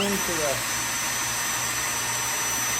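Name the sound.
drill pre-drilling wood for an oak side table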